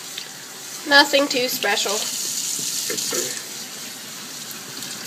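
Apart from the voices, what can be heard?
water running while rinsing brushes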